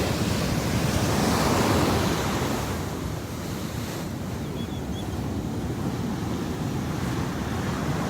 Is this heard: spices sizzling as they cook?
no